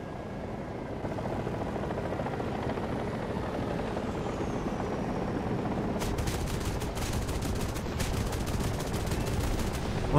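War Thunder combat with a Mi-24 helicopter: a steady rotor and engine drone fills the background, then a burst of rapid, evenly spaced automatic gunfire cracks out over it in the final seconds.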